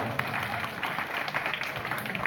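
Sustained applause from a crowd at a village garba and folk-music evening, steady and dense clapping throughout with a murmur of voices mixed in.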